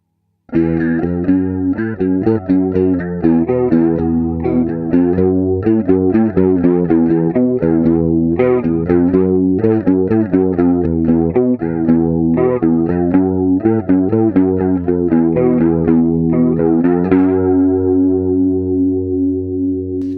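Electric guitar plays a busy melodic line through a modulation effect, the tone shimmering and slightly distorted, ending on a sustained ringing chord.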